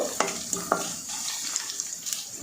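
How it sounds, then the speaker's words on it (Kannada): Curry leaves and dried red chillies fry in oil over a low flame, giving a steady, close sizzling hiss with a few light clinks of a spoon stirring the pan. "ಕರಿಬೇವು ಮತ್ತು ಒಣಮೆಣಸಿನ್ಕಾಯಿ ಲೋ ಫ್ಲೇಮಲ್ಲಿ ಇಟ್ಕೊಂಡೆ ಚೆನ್ನಾಗಿ ಫ್ರೈ ಮಾಡ್ಕೊಳ್ಬೇಕು"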